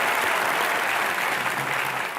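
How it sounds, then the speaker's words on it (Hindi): Dense, steady applause from a studio audience on a Hindi TV comedy show fills the whole stretch, loud and continuous with no voices on top. "इसके लिए तालियां"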